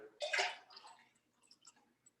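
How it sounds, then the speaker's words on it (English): Rinse water pours and splashes out of a sprouting jar, a loud gush for about half a second that tapers into faint drips and trickles. "and then draining the rinse water off"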